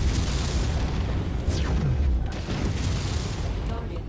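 An enemy vehicle blowing up in MechWarrior 5: a loud, rumbling explosion with bursting debris fills the whole stretch at close range, while a radio-style voice talks over it.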